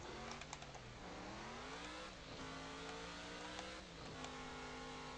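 Car engine in Offroad Outlaws struggling in third gear, a strained drone that rises slowly, drops at a shift and climbs again, with light clicking tapping above it.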